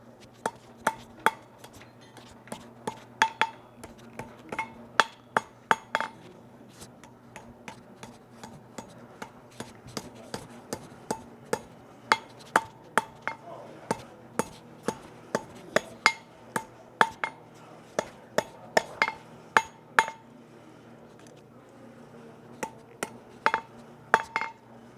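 A hammer strikes a hot forge-welded iron scroll to curl it, giving sharp, ringing metallic blows in irregular bursts close by, with short pauses between groups of strikes over a low background hum.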